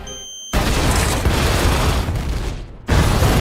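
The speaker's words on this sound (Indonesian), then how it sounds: "terjadi ledakan bom di sebuah kafe" A bomb goes off in a cafe in the film 211, a sudden loud boom that rolls into a long, dense roar of debris and rumble for a few seconds before a second heavy burst.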